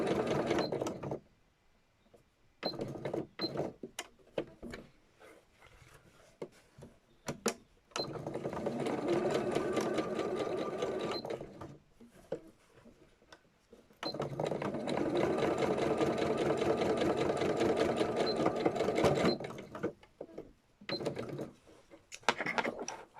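Sewing machine stitching Gelli print fabric pieces, running in long steady bursts with short pauses between runs, close and fairly loud, with a few soft handling noises in the gaps.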